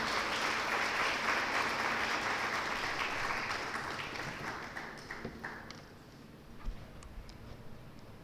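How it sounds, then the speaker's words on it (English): Audience applause at an event on sex workers' rights held at a law college, dense and steady at first, then thinning into scattered individual claps toward the end. "Please welcome her with a round of applause."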